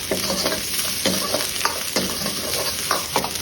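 Chopped ginger, garlic and red chili sautéing in hot oil in a pan for Chicken Manchurian sauce, a loud close sizzle broken by repeated scraping stirs about every second, no talk.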